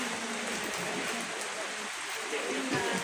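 Heavy rain pours in the Laguna, Cavite and Batangas area, a dense, steady hiss of falling water close to the microphone with no break across the few seconds.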